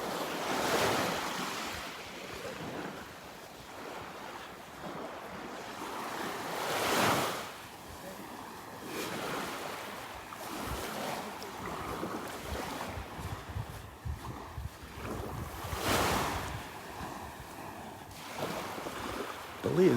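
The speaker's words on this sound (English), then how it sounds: "Listen to the waves now." Ocean waves break and wash along Vanderbilt Beach in a steady surging roar, with louder crashes swelling around seven and sixteen seconds, under gusty wind buffeting the microphone.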